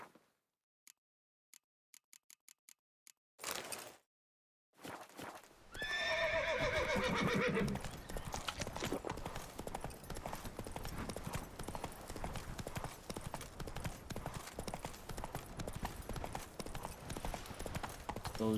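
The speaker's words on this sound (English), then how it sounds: "Run, Roach" Horse hooves clip-clop at a steady galloping rhythm in The Witcher 3 video game, with a whinny near the start, loud and continuous after a few sparse ticks and brief gaps.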